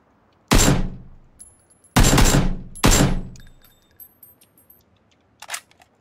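Video game shootout gunfire: three loud, sharp shots with ringing decays, then faint clicks and a later, softer fourth shot.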